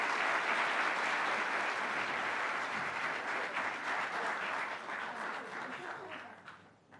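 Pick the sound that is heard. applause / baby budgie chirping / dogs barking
applause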